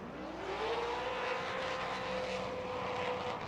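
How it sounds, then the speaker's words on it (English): V8 engine of a Nissan S13 drift car at a night Formula Drift round in Las Vegas, a steady roar climbing in pitch and then holding, heard from a distance with crowd and track noise around it. "You can obviously hear the 8 cylinders just brapping through."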